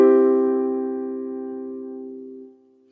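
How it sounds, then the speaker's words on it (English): A single sustained chord rings out clearly beneath a sung melody, holding steady and slowly fading for about two and a half seconds before cutting off, with no voice over it. "the chord underneath sounds like this"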